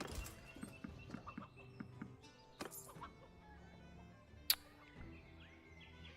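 A rooster clucks in a village in the video game Mount & Blade II: Bannerlord, faint repeated clucks among soft background clatter and hoof-like steps, with one sharp brief peak midway.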